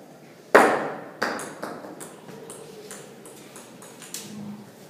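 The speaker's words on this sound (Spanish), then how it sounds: "Guardemos silencio para que escuchemos el equivalente con la pelota de ping pong y la pelota de béisbol." A ping pong ball and a baseball are dropped onto a floor. One sharp, loud impact is followed by another, then a run of lighter, quickening bounces that fade in a quiet room.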